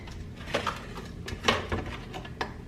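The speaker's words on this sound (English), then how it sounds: "So I'm gonna put the potatoes in the oven right now." A metal pan of rosemary potatoes clanks as it goes into a hot oven, with a few sharp knocks and scrapes against the rack spread across a quiet kitchen background.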